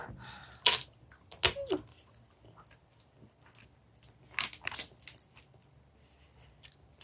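Crisp crunching bites and chewing of apple-flavoured edible coloured paper, a few sharp bursts spaced across the stretch with quieter mouth sounds between, close to the listener and without speech.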